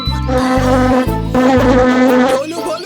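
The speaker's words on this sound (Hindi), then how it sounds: "जरा मेरी नाक के ऊपर से मच्छर उड़ा दो" A cartoon mosquito buzzes loudly and close, a droning, pulsing whine that swells and dips in several bursts, heard alone without voices.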